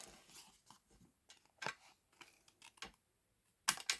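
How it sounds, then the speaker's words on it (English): Paper or cardstock for a stamped gift tag being cut with scissors, a series of crisp close snips and rustles spaced irregularly, with a sharper final cut, quiet and alone. "Then I'm going to cut it off. So I'm not going to use my good scissors to cut it off."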